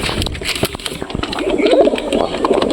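Pigeons coo close by at home in soft, throaty bubbling calls that repeat and overlap, mixed with light rustling and fluttering movement nearby.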